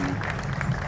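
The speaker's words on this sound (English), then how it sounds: "today we all can applaud him for the wonderful work that he has done" An audience applauds at a facility opening in Ghana, a steady dense wash of clapping heard throughout the short stretch, fairly loud, with faint voices mixed in.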